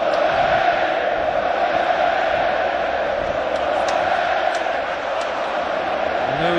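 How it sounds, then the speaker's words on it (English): Stadium crowd cheering at a Barcelona vs Real Madrid La Liga match, a steady loud roar of many voices filling the whole stretch with no breaks. "every pass, every move being cheered to the rafters here"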